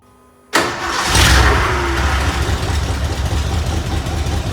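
A Ford F150 bullnose truck with long tube headers and a new dual exhaust cranks and fires abruptly, then settles into a loud, steady, rumbling idle with slight fluctuations, close up and alone.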